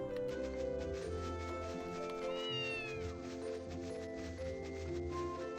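In Ys Chronicles, a video game, a cat gives a few short meows near the middle of the passage, sitting over continuous background music and ambience.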